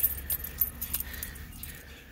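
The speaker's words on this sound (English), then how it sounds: "All right, here's my keys." Keys jangle in short metallic clinks close by, soft and brief, with faint engine-like rumble underneath; they belong to an owner starting a tri-fuel generator pulled from storage.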